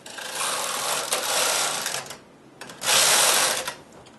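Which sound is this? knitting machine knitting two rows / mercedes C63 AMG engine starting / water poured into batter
knitting machine knitting two rows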